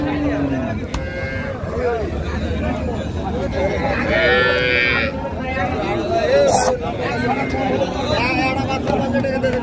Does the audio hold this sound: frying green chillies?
no